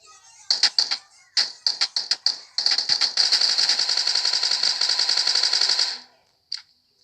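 Rapid video game gunfire, several short bursts of sharp cracks, then a long sustained automatic stream, a pause and one last brief shot, loud and close with no talk.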